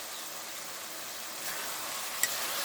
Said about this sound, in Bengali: এদিকে এই যে মশলাটা কষাই হচ্ছে মশলাটা আস্তে আস্তে কষাই হলে